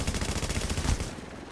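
A shotgun fires in rapid succession during a firefight in The Division, a dense flurry of close, booming blasts that suddenly stops and leaves a duller wash of background noise.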